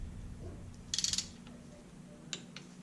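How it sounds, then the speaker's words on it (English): Ratcheting clicks from a torque wrench tightening bolts on an LS engine during assembly: one quick burst of about five clicks, then a couple of faint isolated clicks, over a low steady hum. "we're gonna get these torqued down"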